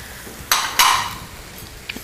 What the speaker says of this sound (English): Give a little fold, a little saute.